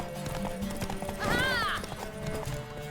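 Galloping horse hooves in The Witcher 3: Wild Hunt during a horse race, a steady close clip-clop with a loud whinny rising midway, with faint voices behind.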